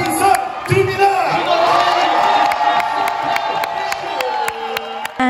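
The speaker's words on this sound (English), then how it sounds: "He started the cheer fest by cheering and learning Yonsei's cheer songs." A crowd at Yonsei University's Akaraka festival cheers and shouts together in a loud, sustained roar, with rhythmic claps or beats punctuating the noise and a cheer leader's voice carrying over it.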